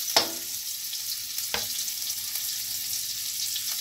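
Tagalog-style pakbet vegetables with tenderized meat, garlic and onion sautéed in a pan, a steady hiss of frying broken by two sharp clanks of a stirring utensil, no voices.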